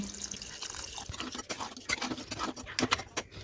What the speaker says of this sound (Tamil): இந்த கறி வேகிறதுக்கு கொஞ்சமாக தண்ணி சேர்த்துப்போம்